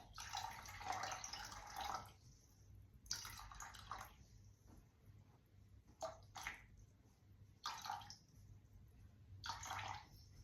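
Water is poured into a bowl for focaccia dough in several short bursts, splashing and trickling quietly with gaps between pours, and no talking.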